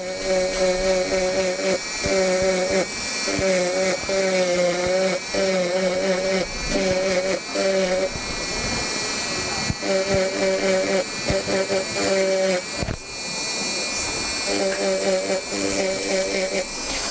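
A dental drill whines in repeated high-pitched bursts while preparing a palatal bevel on a tooth, with a constant hissing suction running underneath throughout.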